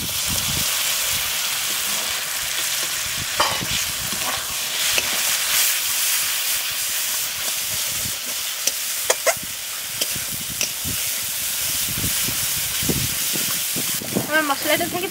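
Tomato paste fries in spiced oil for a mutton curry while being stirred. A dense, steady sizzle carries irregular scrapes and clacks from the spoon, and a voice is heard occasionally.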